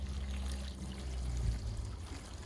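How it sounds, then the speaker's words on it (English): Water poured from a can onto small nursery pots of freshly stuck boxwood cuttings, a steady low splashing trickle running for a couple of seconds with no talking. "I'm going to water them in."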